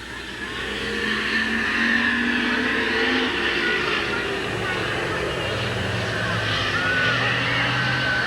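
Race cars circle Midvale Speedway at a 1988 oval race, engines blending into a steady, loud roar with no gaps, while an announcer's voice carries over the top.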